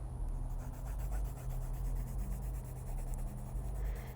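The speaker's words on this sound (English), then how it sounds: "I'm just gonna go up and down, back and forth with my blue pencil." Blue colored pencil strokes on paper, shading a sky in quick up-and-down, back-and-forth motions, produce a soft, steady, rhythmic scratching close by, with no voice present.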